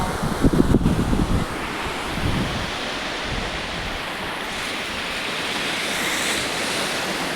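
Sea waves wash onto the beach at Kotda in a continuous broad hiss, with wind buffeting the microphone loudly at first before it settles into steady surf.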